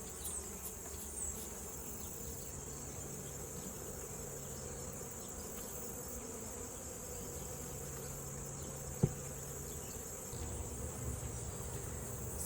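Honey bees hum around an open hive on a warm day during a honey harvest, a soft, steady buzzing drone that fills the whole stretch, with a single sharp tick near the end.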